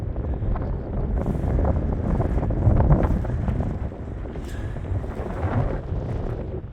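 Strong wind buffets a microphone at a trail shelter above 4,000 feet in the mountains. It sounds as a loud, continuous roaring rumble with gusty surges and no voices.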